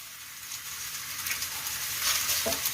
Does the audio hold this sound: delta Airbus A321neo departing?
no